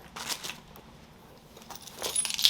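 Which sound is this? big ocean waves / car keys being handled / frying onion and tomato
car keys being handled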